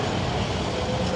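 A computer-controlled train runs on its line with a dense, steady rumble and rolling noise, loud and close, in a short unbroken burst with no voices.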